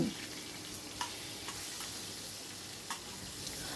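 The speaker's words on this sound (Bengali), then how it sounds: "উল্টে পাল্টে মাছগুলোকে ভালো করে ভেজে নিচ্ছি।" Marinated fish fry in a pan with a soft, steady sizzle, close but fairly quiet, broken by a few light clinks and taps as the pieces are turned over.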